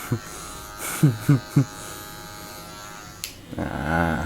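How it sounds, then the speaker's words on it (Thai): Electric hair clippers buzz steadily during a barbershop haircut, with a few short louder bursts early on as the blades bite into hair, ending in a stronger hum. "ยังมีเศษผมอยู่มันจะได้ยินเสียง ฟันกินผมนะครับ ดังเง็ดเง็ดเง็ดเง็ดนะครับ"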